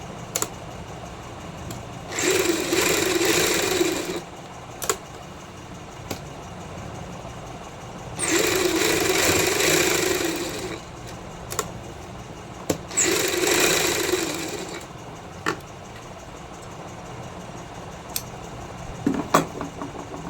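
Sewing machine stitching salwar fabric: three separate bursts of rapid mechanical whirring, each a few seconds long, separated by quiet pauses with scattered clicks and handling sounds.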